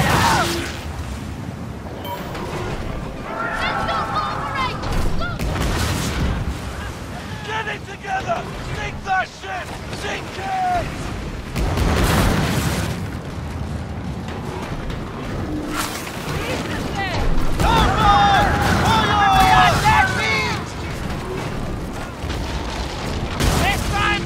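Pirate ship cannons in the game Skull and Bones boom repeatedly in heavy, irregular bursts over gusty wind and sea noise, with voices heard among the blasts.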